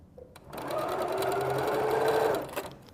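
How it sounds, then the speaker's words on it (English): A sewing machine runs in one continuous burst of about two seconds, stitching along the edges of a quilt block at a quarter-inch seam; the motor whirs loud and close, then stops, with no speech. "and then we're going to sew on all of the edges."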